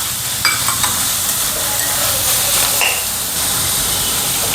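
Vegetables sizzling in a pan as carrot goes in for uttapam, a steady, close frying hiss with a few light clinks and scrapes of stirring on top.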